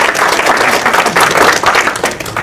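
An indoor audience at a fathers' reading presentation applauds, with dense, steady clapping from many hands sustained at a loud, even level throughout.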